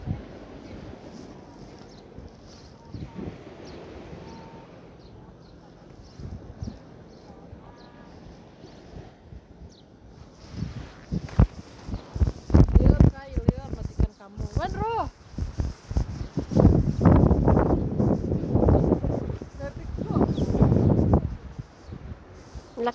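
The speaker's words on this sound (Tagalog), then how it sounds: "Ito yung bagsak ng hangin dito sa tabi ng dagat." Gusty wind by the sea buffets the microphone in loud, uneven bursts, growing stronger over time, with a person talking in between.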